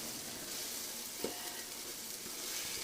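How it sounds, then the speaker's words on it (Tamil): Ginger garlic paste sautés in a pan for beef biryani, giving a soft, even sizzle with one brief utensil tap in the middle. "இப்போ அரைச்சி வச்ச இஞ்சி பூண்டு பேஸ்ட்டு, இஞ்சி 100 கிராம், பூண்டு 50 கிராம் நான் அரைச்சி வச்சுருக்கேன். இதையும் போட்டு நல்லா வதக்கிக்கலாம்"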